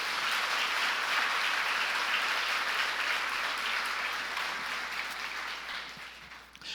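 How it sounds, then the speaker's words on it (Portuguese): A church congregation claps in sustained applause for Jesus during a sermon, a broad, even roar of hands that holds steady and then tapers off near the end. "Você pode aplaudir Jesus por isso"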